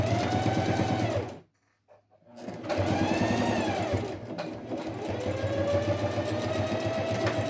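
A sewing machine stitches along the edge of a milk carton box in loud, fast mechanical bursts, pausing briefly after the first second before running steadily again.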